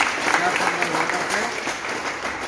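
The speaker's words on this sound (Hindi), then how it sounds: "इसलिए सबसे गुजारिश है, एक बार हम तालियां बजाकर" A gathering in Aurangabad honoring a social worker's anti-addiction work breaks into applause, a continuous crowded clatter of clapping with possible murmured voices mixed in.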